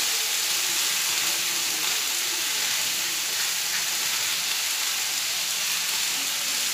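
Spices such as turmeric, chilli, coriander and cumin frying in a pan, a steady, bright sizzle and hiss that continues without break, close and loud with no voices.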